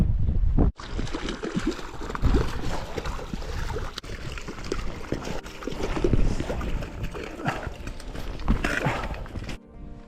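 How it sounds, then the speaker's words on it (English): Strong wind gusts buffet the microphone beside a lake, a loud, rough, continuous roar that swells and dips throughout, with brief dropouts near the start and end. "It's a bit breezy"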